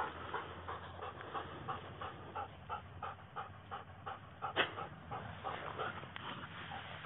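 A tracking dog pants steadily at close range, a rhythmic run of quick breaths across the whole stretch, with one sharper sound near the middle and a low background rumble beneath.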